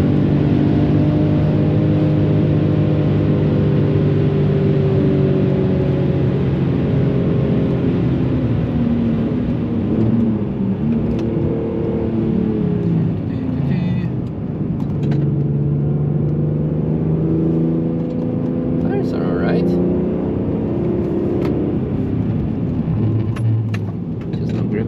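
A BMW E46 M3 drives a wet Nürburgring lap, its engine droning loud and steady from inside the cabin, pitch sweeping up and down through gear changes and throttle lifts, with road and spray rumble underneath.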